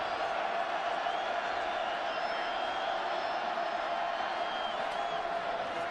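Crowd of over 100,000 at an Ohio State football game, a steady distant roar filling the stadium without pauses, with faint whistles and cheers rising now and then.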